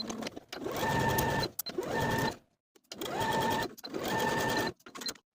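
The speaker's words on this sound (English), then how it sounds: "Now I'll sew from the notch to the bottom of the garment with a 1/2-inch seam allowance" A sewing machine runs in four even bursts of about a second each, separated by short pauses, as it stitches a half-inch seam down a summer top from the notch to the hem.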